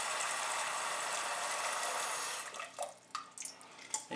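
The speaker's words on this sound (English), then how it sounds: "Put a little bit of water in there." Water trickles and splashes steadily into a cooking pot from a tap, a continuous pour that then tapers into scattered drips and small splashes.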